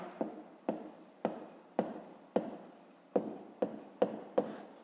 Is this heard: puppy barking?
no